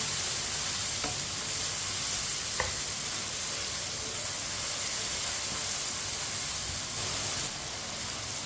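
Tomatoes cook in a pan with a steady, soft sizzle and low hiss, gently stirred, with faint scraping taps now and then and no talking.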